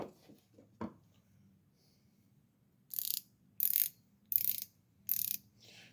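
A Gearwrench flex-head ratchet wrench clicking in four quick bursts of rapid gear ticks, close and crisp, after a soft knock and quiet handling.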